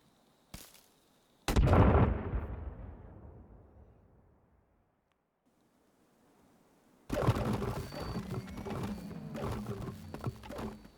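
Grenade explosions in the survival video game Sons of the Forest: a small pop, then a loud booming blast that rumbles and decays over a few seconds, a near-silent gap, then a second heavy explosion with lingering crackling debris.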